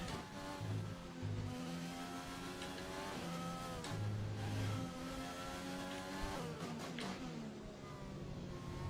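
F1 2020 racing game cars tear through the last corners of a race, steady engine whine with shifting pitch, gear changes and a brief tire squeal, continuous and fairly loud with no talk.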